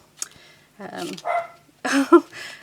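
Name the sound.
dog barking at someone outside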